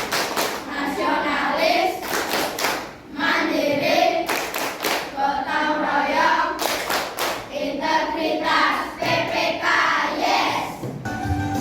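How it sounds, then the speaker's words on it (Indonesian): Students in a school group perform the Tepuk PPK clapping chant: tight bursts of rhythmic hand claps in repeating patterns, interleaved with children's voices chanting together, loud and close throughout. "Lalu dilanjutkan dengan tepuk PPK,"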